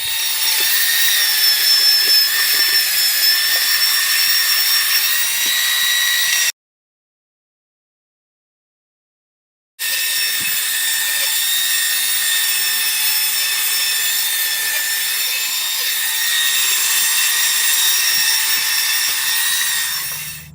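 An orbital sander works over a primitive wooden chair carved from a single piece of wood, around a hole in the seat. It gives a steady, close, high-pitched whine in two long runs split by a few seconds of silence.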